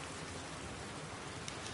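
Steady rain pours down over Seattle in The Last of Us Part II, a dense, even hiss of drops on surfaces with no break.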